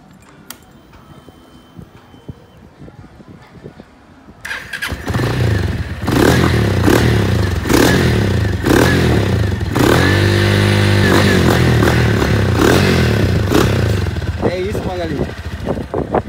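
Customised motorcycle engine starting up after a quiet few seconds, then running loud and close with several sharp revs and a clattering idle.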